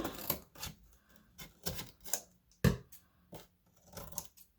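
Scissors trim cereal box cardboard in a handful of sharp, close snips and crisp cuts spaced irregularly over a few seconds, with quiet gaps between.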